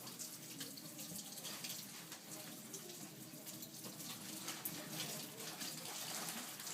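Tap water runs steadily into a sink over a denture being rinsed, a continuous soft splashing hiss with faint irregular spatters, fairly quiet and with no talking.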